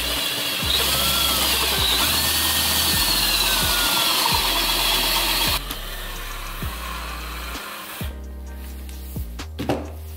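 Power drill opening a hole to 3/16 inch during a 4L80E transmission rebuild, a close, steady grinding whine with rhythmic low thumps that shifts in tone partway through and then stops.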